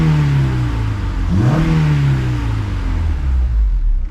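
A Honda Civic hatch or similar track car engine running close by, a steady loud idle with a quick rev rising and falling partway through.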